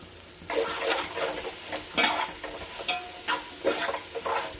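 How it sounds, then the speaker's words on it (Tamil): Grated carrot is stir-fried on a high flame, a loud crackling sizzle that starts abruptly and carries on with repeated scraping, clattering strokes of a spatula in the pan, close up and free of speech. "திருவண்ண கேரட்டையும் இது கூட சேர்த்து ஹை ஃப்ளேமில் வச்சு நல்லா கிளறி விடலாங்க"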